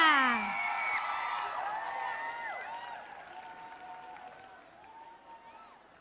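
A crowd at a music awards show in Thailand shrieks and cheers for performers with high-pitched screams and whoops amid clapping, loud at first and then gradually fading.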